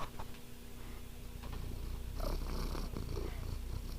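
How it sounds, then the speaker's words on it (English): A house cat purrs right into a microphone, a close, steady rumbling purr that swells louder in the second half, with no talking over it. "Gonna purr into the microphone, buddy?"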